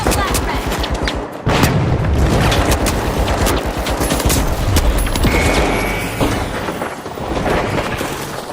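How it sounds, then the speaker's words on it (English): Dense, loud video game combat: bursts of gunfire and booming blasts, including a flashbang grenade, pound almost continuously with a brief lull near the start. "Throwing a flashbang. Using a flashbang."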